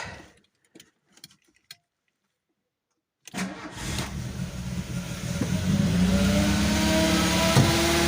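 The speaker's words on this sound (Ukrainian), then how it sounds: "Йдемо, заведемо автомобіль." Quiet clicks and near silence give way to a 1.6-litre car engine cranking and catching, then settling into a steady, close running hum that grows slightly louder.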